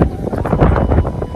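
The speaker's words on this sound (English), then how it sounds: "Now it's still windy, but beautiful feeling." Wind buffets a microphone in loud, uneven gusts on a monsoon motorcycle ride on a BMW F850 GSA, a dense low roar with no other clear sounds.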